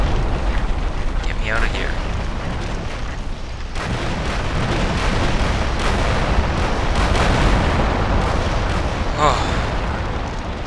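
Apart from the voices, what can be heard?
rockets launching and exploding in video game Minecraft Crazy Craft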